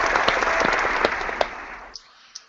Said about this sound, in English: Could you do your applause thing?